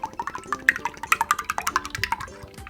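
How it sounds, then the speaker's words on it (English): Liquid for making slime from school supplies is poured out of a bottle into a bowl. It runs as a quick, bubbly series of close drips and glugs, fairly loud, and no one talks. "take our bowl and empty one bottle of the magical liquid"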